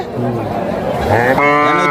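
Cattle moo at a busy open-air livestock market in Kapasia, Bangladesh, where cows, buffalo and goats are traded. Lowing calls rise over a steady crowd murmur, with people chattering nearby.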